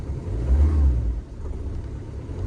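Ford Fiesta engine idling close by, a low rumbling hum that swells briefly and then settles into a steady, slightly uneven idle, with no one speaking.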